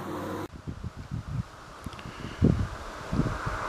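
Wind buffeting a microphone outdoors on a property at night, heavy low gusts rumbling in irregular bursts, loud and close, with no voices.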